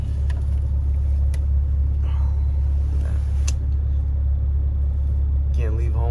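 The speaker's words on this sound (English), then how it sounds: "We're gonna go for a drive right now" A Honda Civic Si cruises with a constant low engine rumble from inside the cabin, loud and steady, while someone talks briefly over it.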